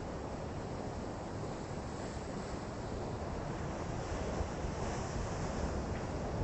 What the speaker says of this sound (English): Here comes some big waves.